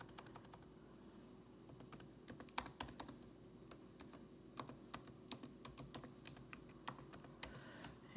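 Fingers tap out an email address on a computer keyboard in quick, irregular bursts of light clicks, with short pauses between runs of keystrokes, quiet and close, no talking.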